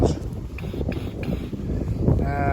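Wind buffets the microphone in an open UK field during metal detecting, a loud low rumble that runs through the clip, with faint beeping tones near the end.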